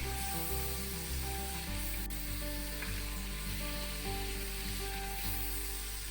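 Onion blended into yogurt cooking in a pan for restaurant-style chicken korma, giving a steady, close sizzle and frying hiss throughout, loud and continuous with a low hum beneath and no talk.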